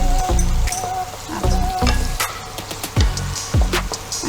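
Onions fry in hot oil with salt and sugar, a steady close sizzle broken by repeated scraping strokes of stirring, with no one speaking.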